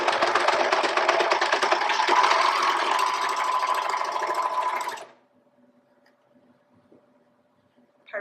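A sewing machine stitches a T-shirt neckband seam along the fabric edge with a steady, fast, close mechanical whir for about five seconds, then stops, leaving near silence with a faint hum.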